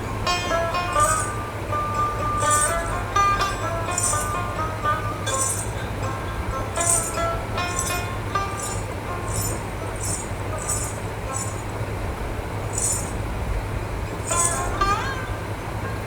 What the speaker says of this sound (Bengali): মাংসটা ভালো করে নেড়ে মশলার সঙ্গে মিশিয়ে নেব।